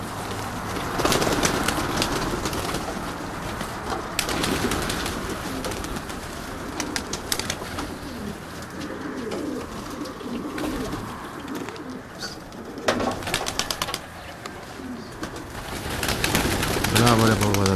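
Pigeons on a small rooftop terrace in Kozani, Greece, give repeated soft cooing calls, with occasional wing flaps and someone talking over them throughout.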